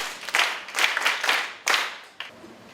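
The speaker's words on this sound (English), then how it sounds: "Clap for yourselves." Children clap for themselves at the 2013 Port Harcourt Book Festival, several loose bursts of group clapping that swell and fade, with a brief pause before a final shorter round.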